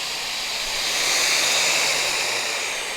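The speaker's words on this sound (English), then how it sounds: "This grinder's really freaking loud." An angle grinder working on a Crew Cab Charger during restoration, a loud continuous high-pitched hissing whine held steadily at close range.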